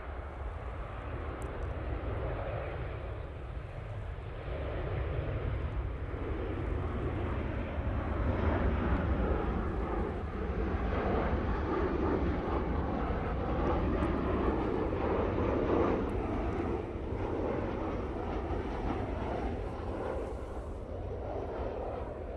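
A Ryanair airliner landing at Manchester Airport, its engines a steady, loud, broad roar that swells slightly through the middle and holds continuously throughout.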